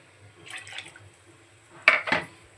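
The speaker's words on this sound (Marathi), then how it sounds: "पूर्ण एक तांबे टाकते पाणी" Hot water is poured into a thick cashew-paneer gravy made from a raw ground masala. It comes as two short, close bursts of liquid splashing, with no talk.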